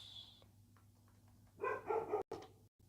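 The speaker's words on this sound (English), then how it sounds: "Sorry again about the background noise of a dog." Dog barking in the background of a home room, a high distant whine first, then a short burst of several sharp barks and yips, fairly faint and alone without talk.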